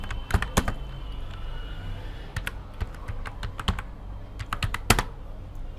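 A computer keyboard being typed on for a search, irregular bursts of sharp close key clicks with brief pauses between them, alone with no talking.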